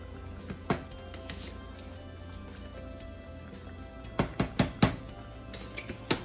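A metal pan clanks and clinks against a kitchen stovetop while beef mushroom noodles cook, with a few scattered knocks and then a quick burst of loud, close metallic hits near the end.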